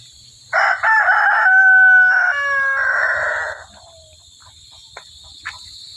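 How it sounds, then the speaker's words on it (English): Chickens on a working farm around feeding time, with a rooster crowing loudly and clearly for about three seconds in a harmonic call, then quieter background clucks and a few faint taps. "So I'll give these chicks a little bit of feed"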